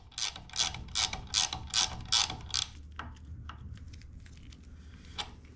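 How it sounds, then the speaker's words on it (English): A clamp tool is cranked to compress the fork spring on a Lambretta TV175 scooter, giving a regular run of about eight close ratcheting clicks, then quieter scattered mechanical taps and one sharp click near the end. "we'll go ahead and compress the spring"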